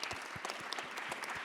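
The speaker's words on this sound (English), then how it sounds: "please join me in an applause for the speakers." A conference audience gives a brief round of applause for the speakers, fairly quiet, with individual claps distinct and overlapping.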